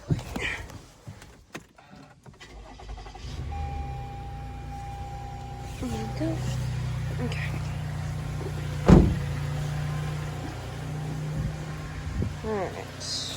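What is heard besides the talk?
car being turned on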